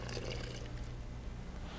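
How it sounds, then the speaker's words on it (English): About a third of a cup of water pours into a well in the center of flour for apple strudel dough, a brief, soft, steady splashing trickle heard up close with no talking. "I've just made a little well in the center, and I'm adding 1/3 cup of water."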